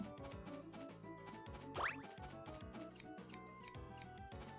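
Sheep shearing with scissors in the farming game Story of Seasons: A Wonderful Life, a run of quick crisp snipping clicks over quiet background music, with one short sliding effect partway through.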